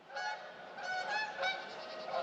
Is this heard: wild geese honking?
yes